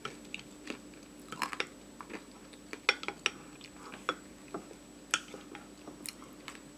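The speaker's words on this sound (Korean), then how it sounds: "저는 카카오 닙스가 이렇게 씹히는 게 되게 좋거든요." Close, quiet crunching and chewing of crunchy cacao nibs, with irregular crisp bites and small clicks of a spoon or dish scattered through, no talking.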